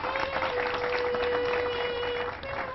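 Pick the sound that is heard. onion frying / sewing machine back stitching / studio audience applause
studio audience applause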